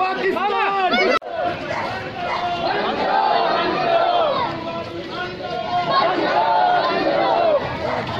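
A protest crowd chants slogans in loud, overlapping, rhythmic voices close by. A sharp break comes just after one second, then the chanting continues.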